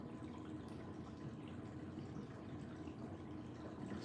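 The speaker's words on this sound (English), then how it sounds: "You can let all the water out on this one." Bath tub water draining out, a steady low gurgling rush with faint drips, continuous and close throughout.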